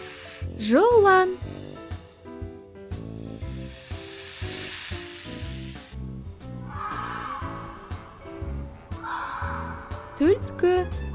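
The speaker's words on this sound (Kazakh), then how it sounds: "Жылан." A cartoon snake hisses in a long, loud airy burst mid-clip, set against bouncy background music and short sliding sound effects at the start and end.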